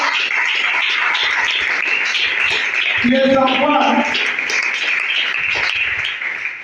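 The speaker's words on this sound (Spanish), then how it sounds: "Denle un fuerte aplauso que se lo merece." A Spanish-speaking church congregation gives a loud, sustained round of applause that fills the room without a break, while a voice speaks briefly over it midway through.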